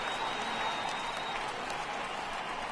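A steady roar of crowd cheering and applause fills a baseball stadium in a PS4 video game, loud and continuous throughout.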